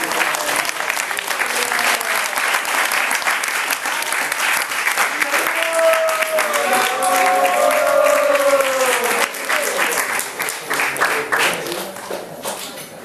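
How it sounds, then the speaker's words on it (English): Audience at a Sunday youth program applauding a group of men, a loud, sustained wash of many hands clapping with cheering voices rising through the middle before the clapping tapers off. "let's give another enthusiastic round of applause to all these men"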